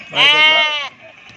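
A single loud, quavering bleat from a sheep or lamb at a sheep market in Guduru, close up, lasting under a second before fading into quiet.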